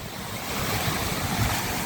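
Steady rushing surf with wind noise, a continuous broadband wash that swells slightly louder partway through, no voices.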